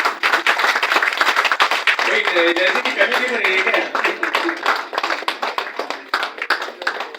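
At a ceremony, a crowd claps in a busy, continuous patter while someone speaks over the sound through a microphone.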